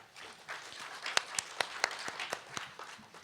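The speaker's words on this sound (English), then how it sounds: "That was really a golf clap." Light, sparse clapping from a small audience after a talk, faint and scattered with a few sharper individual claps standing out.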